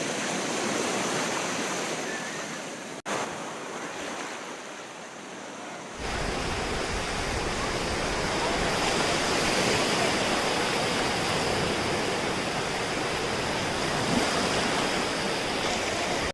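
Ocean surf washes onto the seashore at Dwarka in a continuous broad roar, briefly softer early on, then swelling louder and fuller, with no voices over it.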